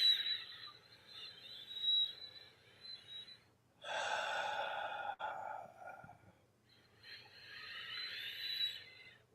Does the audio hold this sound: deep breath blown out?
yes